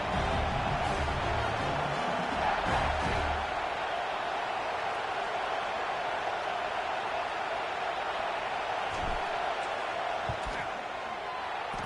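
A football stadium crowd during a field goal attempt in an LSU versus Tennessee game: a steady, loud roar of many voices fills the whole stretch, with a few brief thumps, and an announcer talks over it.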